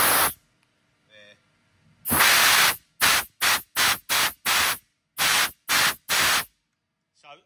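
Compressed air blasts through a lube line on a Haas VF1 CNC machine in a series of loud, short hissing bursts, one long burst followed by about eight quick repeated puffs, with no voice.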